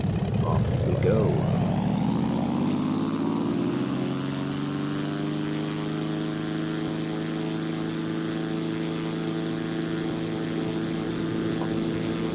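A Zlin 142 propeller plane in X-Plane 11 roars down the runway on takeoff, a steady loud engine drone whose pitch rises sharply in the first seconds and then holds level and strong.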